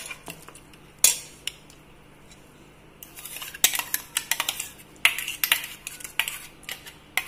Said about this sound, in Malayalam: ഈ അരപ്പും കൂടെ ഇതിലേക്ക് ഇടാം.